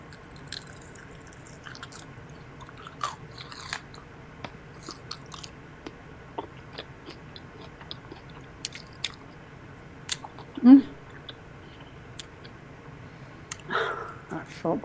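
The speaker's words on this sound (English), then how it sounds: "Listen to this crunch," Someone chews crunchy food up close, producing soft, wet crunches and squishes scattered irregularly across a quiet background, with a louder bite near the end and no clear speech.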